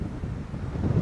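Strong wind gusts across an open hilltop viewpoint in Tagaytay, a brief low buffeting rumble that swells and dips against the microphone, with no talking.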